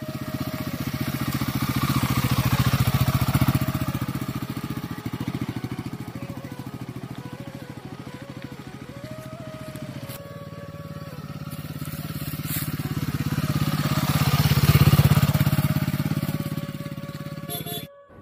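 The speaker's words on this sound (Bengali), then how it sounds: "জেমস মন ভরে স্যাডলিং করলো আমাদের নতুন হিমালয়ান 450-তে।" A new Royal Enfield Himalayan 450 motorcycle being ridden, its steady engine drone swelling and easing as the rider rolls on and off the throttle, loud and close throughout without talk.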